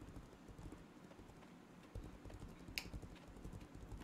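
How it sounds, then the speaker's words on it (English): Hooves clip-clopping from a horse in the video game Legends of Aria, a quiet, rapid patter of light knocks running steadily throughout, with one brighter click near the end and no speech. "Oh, a horse."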